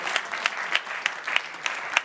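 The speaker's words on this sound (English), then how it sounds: "Everyone's going to clap for you. Clap for Jason." An audience claps for a volunteer named Jason coming up on stage, a moderate crowd applauding in a fairly even rhythm with several sharper, louder claps standing out at regular intervals.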